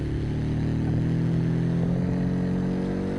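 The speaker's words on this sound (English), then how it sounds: "Maybe we don't even need to change the exhaust because that sounds quite cool" A vintage race car in BeamNG in sport mode gives a steady, muffled engine and exhaust drone, rising slightly in pitch under continuous load with no voices.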